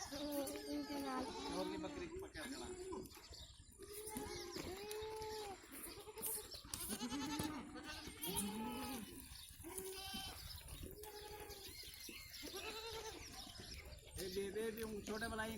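Goats on a village farm in Pakistan bleat again and again, overlapping calls from several animals close by, loud and continuous, with a person talking among them.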